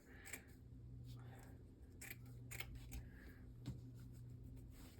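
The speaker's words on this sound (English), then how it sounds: "I'm going to cut it with a pair of scissors" Several quick snipping cuts from scissors trimming machine-embroidered lace, crisp and close, spaced irregularly over a low steady hum, with no talking.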